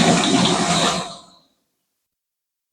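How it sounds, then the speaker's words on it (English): Water rushes into an LG WM4200HWA front-load washing machine on a speed wash with warm water, a loud hissing flow for about a second before cutting off abruptly into silence. "Water coming in."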